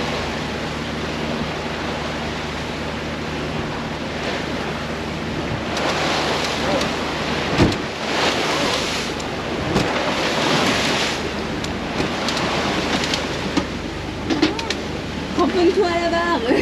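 Wind and waves wash steadily around a sailboat under motor, with the engine droning underneath and occasional gusts buffeting the microphone, continuous for the whole stretch.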